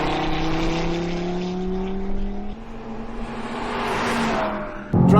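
A 2017 Audi TT RS Coupe accelerates hard on a racetrack, its engine howling loud and close with rising pitch, a brief dip as it shifts gear at about the midpoint, then climbing again into another shift near the end.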